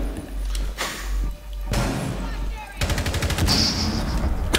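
Gunfire in the shooter game Rainbow Six Siege, with heavy close shots and bursts, a gap, then a rapid automatic string of sharp cracks near the end.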